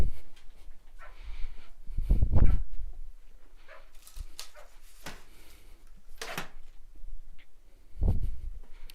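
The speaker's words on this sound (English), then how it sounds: "Oh my god, that dog is so loud out there." Dog barking loudly outdoors, a few separate bursts of barks heard from indoors at a moderate distance, with quieter noises in between.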